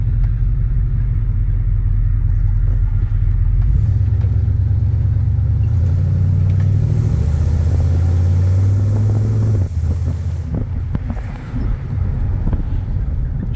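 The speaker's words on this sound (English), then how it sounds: "Just take a quick ride around the block here." A 1992 Dodge W250 truck drives around a block, its engine a steady low rumble heard from inside the cab, with wind noise over it and a brief shift in tone near the end.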